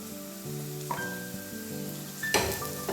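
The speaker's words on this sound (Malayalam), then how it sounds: "ഇനി നമുക്ക് അതിലേക്ക് ഇഞ്ചി വെളുത്തുള്ളി ഇട്ട് കൊടുക്കാം പച്ചമുളകും" Ginger, garlic and green chili fry with onions in a pan for a crab dish, a close sizzle under a steady tonal backdrop, with a louder crackling burst toward the end.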